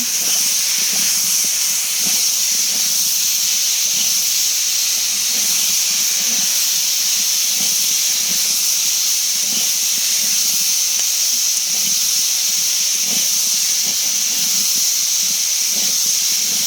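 Spice paste sizzles and hisses in a hot pan with small garden potatoes, a steady loud frying hiss that runs unbroken throughout, with faint scraping stirs underneath.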